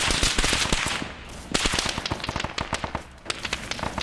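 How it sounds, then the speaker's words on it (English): Machine gun (MG) fire in a video game battle, long rattling bursts of sharp rapid shots with brief pauses between, loud and close, with more scattered gunfire around it. "That's the fire of the MG."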